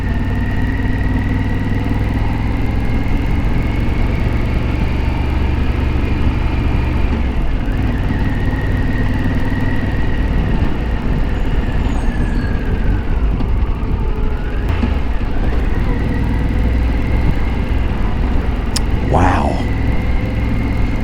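A Harley-Davidson Pan America motorcycle hums along in slow traffic, its engine drone steady and close under a rider's talk, with passing vehicles and a brief distant siren-like whine late on.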